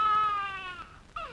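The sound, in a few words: mimicked baby crying played from a tape recorder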